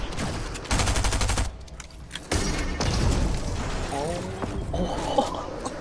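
Rapid gunfire bursts from a Fortnite match, loud and close, with booming impacts and clattering mechanisms scattered through the scene, and a voice talking over parts of it.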